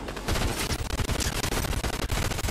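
Dense, rapid gunfire from a Fortnite weapon crackles in a continuous burst across the whole moment, loud and close with no pause between shots.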